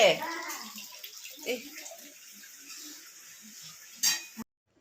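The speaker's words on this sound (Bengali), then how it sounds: "এই জলটা তো পড়ে যাচ্ছে রে বাবা এটা বন্ধ হয় না" Water runs steadily from a household tap that won't close, a continuous close hiss with a few faint clinks of dishes and voices talking underneath.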